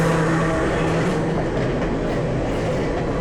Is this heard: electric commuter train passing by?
yes